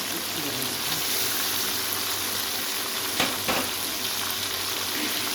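Tomatoes added to chicken karahi with yogurt fry in a pan, giving a steady, even sizzle close by, with a couple of brief stirring knocks partway through.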